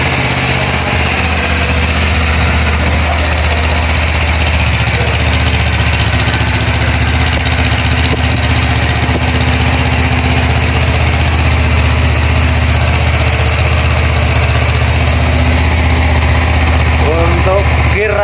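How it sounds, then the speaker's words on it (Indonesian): A 2017 Honda CBR 250cc ABS motorcycle idles steadily with a low, even engine hum and no change in rhythm, and a voice speaks faintly in the background. "ini guys suara mesinnya guys."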